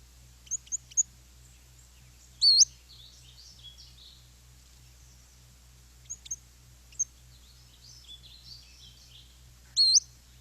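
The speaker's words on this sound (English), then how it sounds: "Yes, the Pacific slope flycatcher." A recorded Pacific-slope flycatcher song plays back: short, thin, high-pitched upslurred notes and quick chirps in sparse bursts separated by pauses, over a faint low hum.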